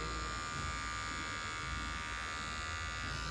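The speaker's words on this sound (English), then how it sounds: "switching back to trimmer" An electric hair trimmer buzzes steadily and close up while cutting a woman's short layered hairstyle, a constant motor hum with no talking.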